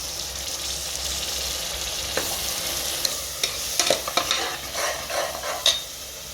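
Ingredients are sautéed in a pan for jeera samba biryani. A steady sizzle and hiss of frying runs throughout, joined by scraping and tapping from stirring that grows busier toward the end, with no talking.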